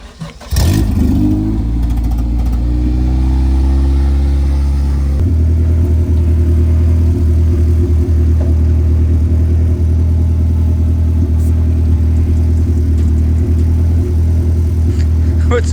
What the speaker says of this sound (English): Let the car warm up again,